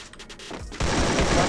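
Rapid gunfire in the Free Fire battle royale game during a 4v4 squad match, starting with scattered shots and then breaking into a dense, loud, sustained burst.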